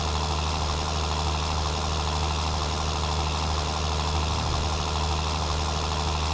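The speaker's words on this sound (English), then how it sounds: "Listen to the sound of that tractor." A tractor engine in the Farming Simulator 19 video game drones continuously and evenly at a constant loud level, alone, with no talk.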